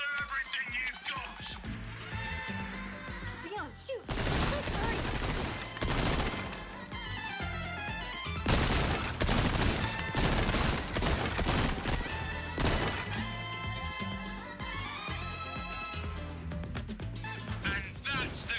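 Gunfire at the shooting range in Resident Evil 4, loud repeated shots and crashes in irregular bursts mixed with game music and effects, with talk over parts of it.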